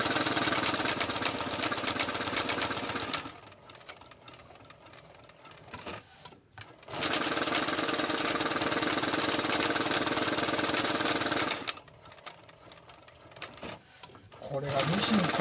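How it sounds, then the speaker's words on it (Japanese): A sewing machine stitches leather at a fine stitch pitch, running in long steady stretches of rapid mechanical whirring and clatter, broken by short pauses where a voice speaks. "これがミシン細かいピッチで縫ってるじゃん"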